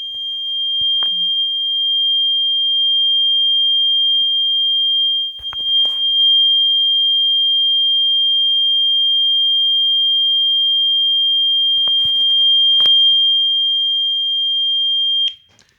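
A steady 3200 Hz sine wave test tone plays continuously for about fifteen seconds, loud and pure, broken only by a few faint clicks before it cuts off abruptly.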